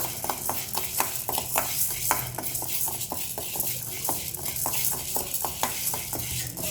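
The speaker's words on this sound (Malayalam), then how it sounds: "എന്നിട്ട് ചെറു തീയിൽ വെച്ചിട്ടൊരു ഗോൾഡൻ കളറാവുന്നവരെ നമുക്ക് വറുത്തെടുക്കണം" Urad dal frying over a low flame in a pan while a spoon stirs it, giving steady close scraping and clinking strokes over a soft continuous sizzle, with no talking.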